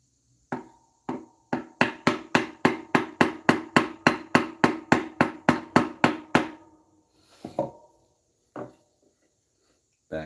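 A hammer strikes the back of a chisel in a woodworking setup, a fast run of about twenty sharp, evenly spaced knocks close by, followed by a few slower, scattered taps after a pause.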